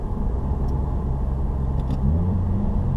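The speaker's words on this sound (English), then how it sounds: "I do have a nameless catback exhaust, so it's probably a lot louder than most cars you hear from the inside." Cabin sound from inside a 2015 Subaru WRX fitted with an aftermarket catback exhaust and a stiffer pitch stop mount. The steady low engine and exhaust drone is loud, with a slight rise in pitch toward the end as the car picks up speed.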